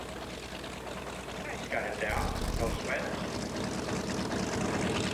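A propeller airplane with a 650-horsepower Pratt & Whitney radial engine and Hamilton Standard propeller drones steadily nearby, a low throbbing roar that swells midway, while someone comments over it.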